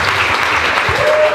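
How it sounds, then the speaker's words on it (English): A live audience breaks into a round of applause, a dense, steady wash of clapping that fills the whole moment at close range, with faint voices mixed in. "Everyone give a round of applause for Lucy."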